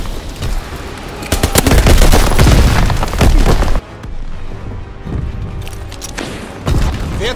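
Call of Duty WWII combat around a tank: loud, close bursts of machine-gun fire and deep explosive booms for several seconds, then a quieter stretch of distant shots and rumble before another blast.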